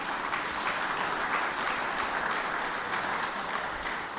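A crowd at a governor's announcement on a firefighter grant program claps steadily, an even, moderately loud patter of many hands throughout.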